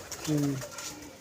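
A single soft, low cooing call from a family-line pigeon at a pigeon club, close by and about a second long, while someone speaks nearby.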